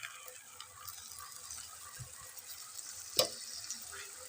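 Food fries in a pan before tomato paste goes in, a faint continuous sizzle with light stirring scrapes and one sharp clink of a utensil against the pan near the end.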